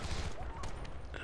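Rapid bursts of gunfire in the war video game Battlefield Bad Company 2, a quick fusillade of shots over a low rumbling game background, with a voice faintly underneath.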